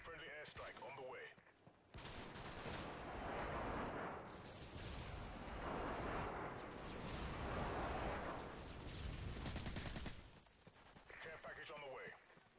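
A Call of Duty airstrike lands in a long run of heavy explosions and rolling blasts that swell and surge for about eight seconds, with a voice speaking just before and just after.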